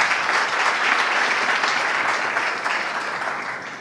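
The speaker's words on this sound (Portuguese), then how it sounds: "palmas para a Patrícia" Conference audience at a branded-content panel applauds a guest, sustained dense clapping that fades slightly toward the end, with no talk over it.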